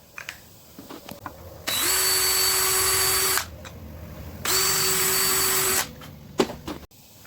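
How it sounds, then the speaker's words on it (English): A power drill bores a pilot hole in solid oak in two steady, loud whirring runs of about two seconds each, separated by a pause, with small handling knocks between them. "go ahead and pre-drill a pilot hole"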